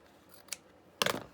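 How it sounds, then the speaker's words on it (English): Scissors snipping the edge off a sheet of paper for a junk journal, a quick faint snip followed by a louder crisp cut of several rapid blade closes, close up in a quiet room. "Oh, I want that edge right there cut off."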